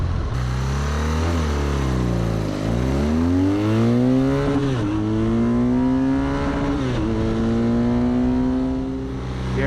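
A 2021 BMW R nineT Pure motorcycle rides through city streets in DC, its engine loud and close, revving up and dropping back through several gear changes.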